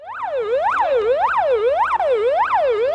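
An ambulance siren wails through repeated rising and falling sweeps, loud and close, arriving at an emergency response drill.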